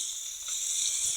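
Koi fish frying in a pan with potatoes, a steady close, bright sizzling hiss that runs evenly throughout.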